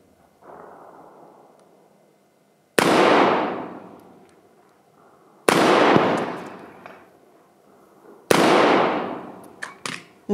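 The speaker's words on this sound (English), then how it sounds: "fired a series of shots" Three loud rifle shots fired outdoors a few seconds apart, each a sharp crack followed by a long rolling echo, preceded by a faint low rumble, with no talk.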